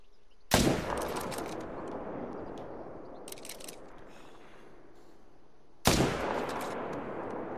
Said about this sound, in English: Guess they didn't hear the gunshot.